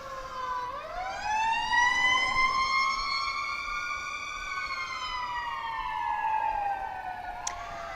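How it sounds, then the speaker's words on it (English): An emergency vehicle siren wails past outside an RV dealership in McDonough, Georgia. A clear, fairly loud tone sweeps up and holds, then slowly falls as it passes, with a brief click near the end and no speech. "Now we've got sirens, y'all."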